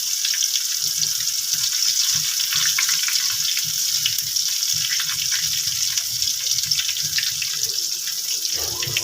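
Eggplant fries in a pan for a masaledar baingan dish, a steady close hiss and sizzle with small low pops throughout and no talking.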